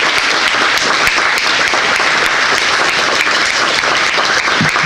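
Loud, continuous applause from a large audience at a business breakfast honoring Lee County school board members and administrators, a thick steady roar of clapping filling the whole stretch.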